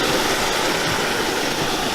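Waterfall seen up close from the front, a steady loud broadband rush of falling water that fills the whole short stretch without pause.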